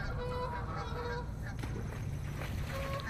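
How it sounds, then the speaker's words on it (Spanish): Geese or ducks honk repeatedly at a lake, their nasal calls rising above a dense, continuous background roar. "No sé si son ocas o patos, me quedó ahí la duda"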